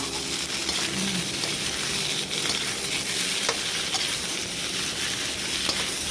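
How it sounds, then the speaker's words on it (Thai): Sliced cucumber sizzles and crackles steadily in hot oil while being stir-fried in a pan, with occasional scraping and clinks of a utensil, close up. "เดี๋ยวก็ตามด้วยเอ่อแตงกวา นะคะที่เราหั่นไว้นะคะ ลงไปผัดเลยค่ะ"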